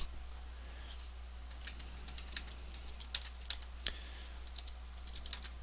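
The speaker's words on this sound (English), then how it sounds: "I got a new keyboard, so it sounds fun." Soft keystrokes click irregularly on a computer keyboard, sparse and fairly quiet over a low steady hum.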